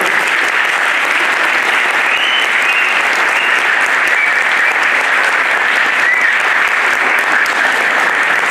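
An audience of young people applauds at a talk in Manisa, sustained loud clapping from a packed hall that holds a steady level throughout, with no talking over it.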